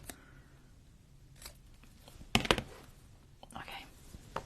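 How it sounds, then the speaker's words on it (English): Scissors snip paper for a collage in a few quiet, scattered cuts, a sharp pair of crisp snips standing out near the middle, with soft rustling and handling around them. "I'm doing a really horrible job of cutting straight"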